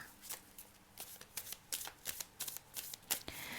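Tarot cards being shuffled by hand, a quiet close series of quick riffling bursts in an irregular rhythm, with no talk.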